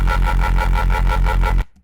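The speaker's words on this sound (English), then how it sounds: "So this saturate mode, and then a little bit of reverb here." A gritty, saturated neurofunk synth bass made in Phase Plant pulses in a steady repeating rhythm, loud and alone, then cuts off leaving a brief, short reverb tail.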